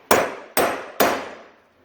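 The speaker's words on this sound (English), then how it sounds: "I don't know if I should use my massive hammer" A hammer strikes a nut on a pontoon boat three times, about half a second apart, each blow a sharp, close metallic knock that rings briefly before fading.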